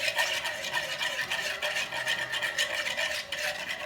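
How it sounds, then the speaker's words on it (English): Caesar salad dressing being stirred, a steady run of soft swishing and scraping strokes, close and fairly quiet, with no talking. "just keep stirring it"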